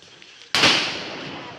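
A Diwali firecracker bursts once with a sudden loud bang outdoors, its crackling blast decaying over the following second after a quiet lead-in.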